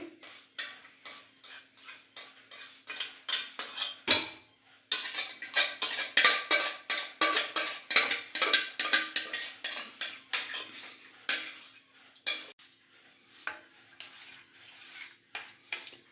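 A spoon stirs custard apple pulp in a bowl for sitaphal kulfi, giving a steady run of quick metallic clinks and scrapes against the dish, with a brief pause partway through and no voices.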